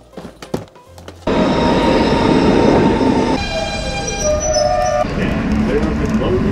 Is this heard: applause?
no